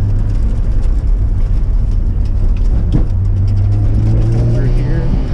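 A Mazda RX7 accelerates hard, its engine roaring loud and close with a rising drone toward the end, under steady road and wind noise while a voice talks over it.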